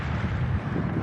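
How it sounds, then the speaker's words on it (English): Wind blows outdoors on a hilltop, a short burst of low, rumbling gusts buffeting the microphone, fairly loud and continuous. "The wind is picking up"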